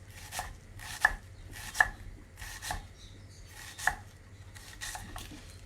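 A knife chopping an onion into small bits on a board, about eight crisp, evenly spaced strokes with a few sharper knocks, close and clear with no talk.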